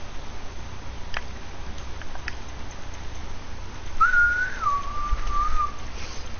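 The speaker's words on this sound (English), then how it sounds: "Wait, we're not supposed to whistle at night" A person whistles a single clear melodic phrase that rises, dips and trails off over a steady low background hiss, with no talking.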